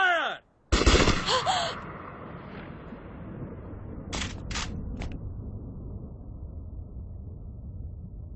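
Gunfire bursts out in a Hindi-dubbed animated movie: a loud sharp volley near the start, then a few quicker shots fading into a low rumbling aftermath, with a voice briefly heard.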